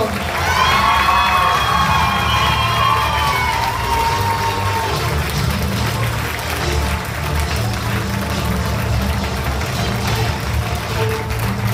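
Loud crowd cheering and applause at the Miss 15/17 National 2015 pageant as Miss Midi-Pyrénées is crowned, a dense steady roar with a raised voice or cheer standing out early, continuing unbroken throughout.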